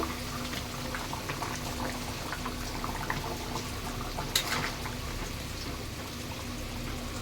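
Papaya and potato curry boiling in a covered pot on a gas stove, with a steady, dense bubbling and simmering hiss that continues evenly throughout and has no voices over it.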